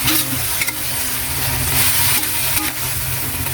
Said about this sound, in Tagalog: ilagyan natin yung isda na tinday natin. Saka natin i-mix.